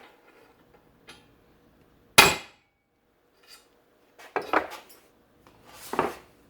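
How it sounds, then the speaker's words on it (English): A hammer driving a long punch against a U-joint cap to knock it out, producing a few sharp, close metallic knocks spaced seconds apart in an otherwise quiet workshop. "we'll take a long punch and put it in that lower cap and hit it out that way"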